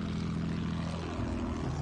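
A bomber plane's propeller engine in Battlefield 1 drones in a loud, steady, low rumble that holds without a break for a couple of seconds.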